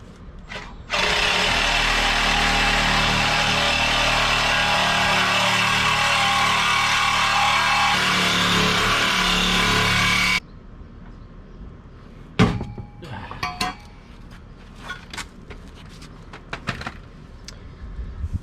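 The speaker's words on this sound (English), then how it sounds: "I really can't stand the way this exhaust sounds" An LS-swapped Firebird's engine roars loud and steady through its new exhaust for about ten seconds, then cuts off abruptly, leaving scattered clanks and knocks.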